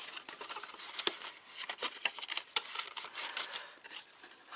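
Scissors cut through card while a homemade box is being made, giving close, quiet, irregular snips and scraping rustles, with no talking.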